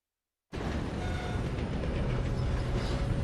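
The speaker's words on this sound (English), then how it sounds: "Come on, we need to stop this train." A train running in the Red Dead Redemption 2 video game, a dense, loud rumble with rattling carriage noise that starts abruptly after half a second and continues steadily to the end.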